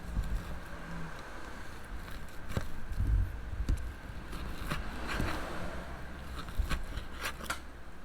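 Cooked pork chops being cut off the bone, likely in a cast iron skillet, give a few faint, sparse clicks and scrapes of a blade against a quiet background, with no talking.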